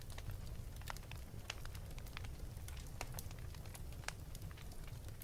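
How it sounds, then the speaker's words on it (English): Steady crackling fire by a cozy fireside, a continuous low rumble scattered with sharp pops and snaps that run throughout at an even, soft level with no talking. "Allow the sound of the crackling fire to lull you into comfort."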